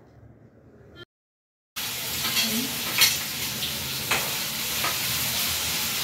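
Bean pods roast in hot oil in a kadhai, a soft steady sizzle with faint stirring scrapes that starts after a brief silent break and carries on alone at low volume.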